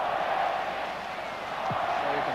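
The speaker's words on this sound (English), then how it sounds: "So you can hear it now, the Finnish crowd" A Finnish football crowd at the 1986 World Cup qualifier between Finland and England makes a steady, distant roar that holds evenly throughout, with a voice faintly present.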